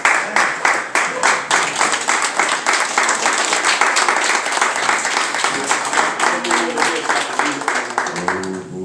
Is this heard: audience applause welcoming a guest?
yes